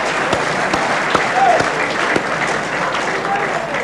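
At a sporting club's awards night, a crowd claps for a team supporter, a steady round of applause under a raised voice speaking over it, with a few distinct claps standing out.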